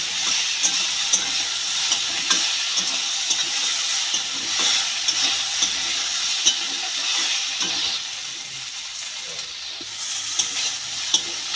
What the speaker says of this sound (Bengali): চিংড়ি মাছ দিয়ে সবজিগুলো ভালো করে নেড়ে চেড়ে ভেজে নেবো